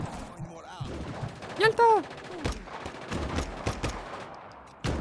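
Gunshots in the open-world game Just Cause 3 crack out as a run of sharp, separate bursts mixed with game effects, while someone talks over the action.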